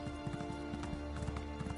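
Horse hooves clip-clopping in The Elder Scrolls Online, a quick, even run of close hoofbeats over a steady hum of game ambience.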